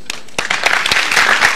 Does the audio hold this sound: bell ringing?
no